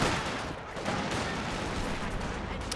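Machine gun suppression fire in a Company of Heroes 2 battle, a dense, continuous crackle of rapid shots mixed with distant battlefield explosions, loud and steady throughout.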